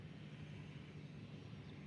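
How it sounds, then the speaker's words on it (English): A Challenger 300 business jet at a Hawaii airfield produces a steady, fairly faint engine drone with a soft whine, holding even throughout with no voices. "it's a Challenger 300, little short guy, little stubby."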